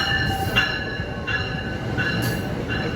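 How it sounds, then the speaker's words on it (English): A New York subway train arrives at Grand Central, its steady rumble and rattle topped by repeated high metallic wheel squeals, close and loud throughout. "The train come. It's a New York train"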